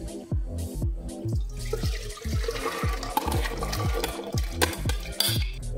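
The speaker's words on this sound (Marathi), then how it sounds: "सगळं पाणी कुकरमध्ये घालायचंय" Water sloshes and pours in gurgling bursts into a metal pressure cooker, with splashes and drips, close and fairly quiet.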